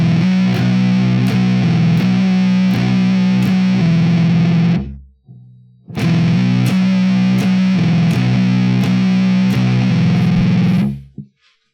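Heavily distorted electric guitar playing a droning stoner rock riff with subtle vibrato, loud sustained low notes and repeated picked figures in two bars separated by a short break.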